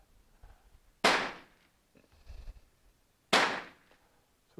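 Two sharp, loud rifle shots from a Danish Rolling Block chambered in 11.7x51R, a few seconds apart and close, each cracking then fading, with quiet shuffling between them.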